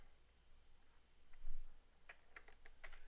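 Short bursts of computer keyboard keystrokes for a shortcut, several quick clicks bunched near the end after a quiet stretch, close and fairly faint against soft background hiss.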